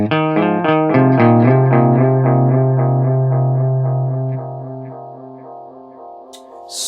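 Electric guitar run through digital delay on a Line 6 Helix and a Strymon Timeline, a picked phrase of repeating notes with trailing echoes that fade over several seconds, then a brief word at the end.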